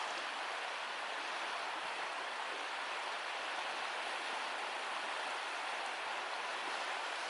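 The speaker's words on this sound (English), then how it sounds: "You hear the water in the background." A river's water flows in the background, a soft, steady broadband rush that stays even and continuous throughout, faint and distant, with no voices or other sounds.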